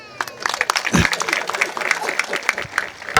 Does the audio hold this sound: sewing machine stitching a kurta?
no